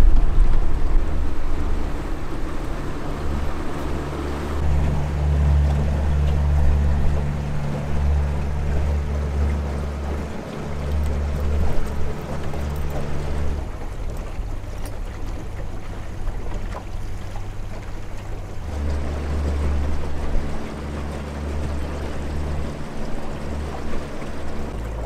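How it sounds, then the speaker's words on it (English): A small boat's outboard motor runs at low speed across a lake, a steady close drone with wind and water rush over it, holding level for the full stretch with no talking. "we've been cruising the lake in style"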